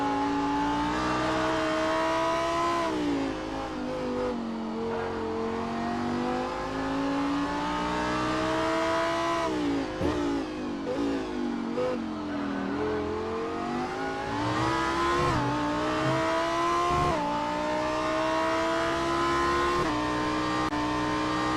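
Onboard a Lamborghini Super Trofeo race car lapping Laguna Seca, the engine howls steadily and loudly, rising and dropping in pitch through gear changes and corners for the whole stretch.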